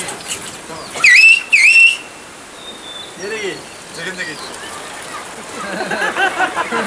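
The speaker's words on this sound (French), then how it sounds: "La vie à Kouskoï commence et finit par des sifflements." Whistled speech from the Kouskoï valley rings out as two loud, piercing, gliding whistles close by, followed by fainter whistled phrases carried over a soft, rain-like outdoor hiss.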